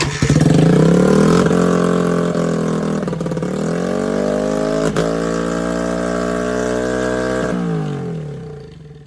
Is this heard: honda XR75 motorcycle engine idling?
yes